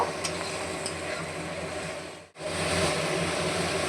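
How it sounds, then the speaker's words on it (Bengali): Masala spice paste with tomato being fried and stirred for chicken kosha, a steady close sizzle with scraping stirs that dips to near silence briefly midway, then resumes. "মশলাটা ভালো করে কষিয়ে নেব।"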